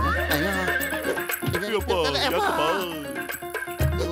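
A cartoon robot horse lets out a long, loud whinny with wavering pitch, accompanied by hoof clip-clops and faint metallic jingling, set against background music.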